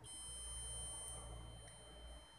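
A multimeter in continuity mode beeps steadily as its probe rests between a Samsung phone's SIM pin and ground, a faint continuous high tone over low electrical hum.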